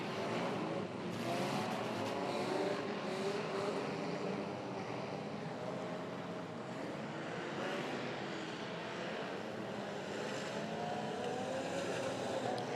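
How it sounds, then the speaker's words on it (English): Demolition derby cars racing laps on a clay track at Murray Bridge, engines roaring loud and continuous with passing surges and crowd-like wash throughout. "Justin Ashley Wright, he's putting another lap."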